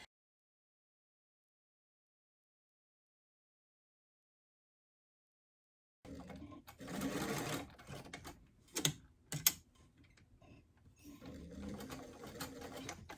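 Sewing machine stitching a collar onto a doll's turtleneck top, starting after a long silence and running in uneven bursts with brief pauses and louder mechanical clatters; close by, no talking.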